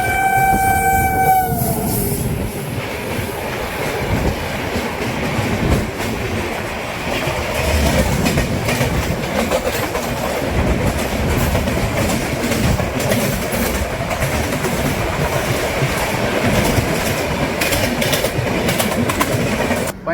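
The 13005 Amritsar Mail rolls along the tracks in a loud, steady rumble with rhythmic wheel clatter, opening with a brief horn blast in the first couple of seconds.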